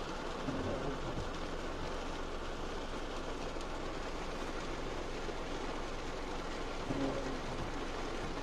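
Steady rain hisses continuously over a low rumble that sounds like a train in motion, with faint clatter now and then.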